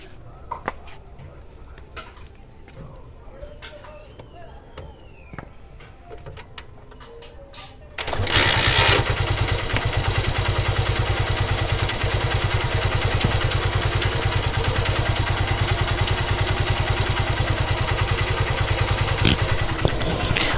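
A Honda Shine SP motorcycle with a dead battery starts after some faint clicks and rattles, then idles loudly and steadily close by with a continuous mechanical clatter.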